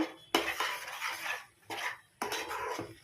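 A spatula scrapes around a pan while flour is stirred for palm-fruit pakon pitha. Three close, rasping strokes each begin with a sharp metallic knock.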